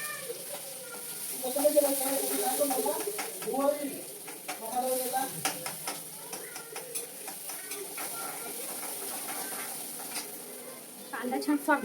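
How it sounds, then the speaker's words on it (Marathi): Mustard seeds and cumin crackle and sizzle in hot oil in a home kitchen pan, a steady hiss with small pops while someone talks over it. "मोहरी तळतळली, जिरं घालते."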